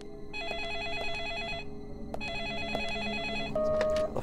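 A telephone rings in the video game Deadly Premonition, two long bursts of trilling electronic bell tone separated by a short gap, then a steady higher single tone, clear and close with no talk.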